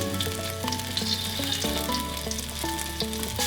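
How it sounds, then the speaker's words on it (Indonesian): Spice paste for seblak sizzles steadily as it fries in hot oil, a continuous close crackle running alongside tonal background music, with no talking. "setelah minyaknya agak panas, kita masukin dulu bumbu yang udah diulek tadi ya. Masukin dulu, kita goreng sampai harum."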